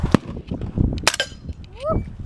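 A handgun fires at an indoor shooting range, giving a sharp crack near the start and another loud report about a second in. People talk and react around the shots.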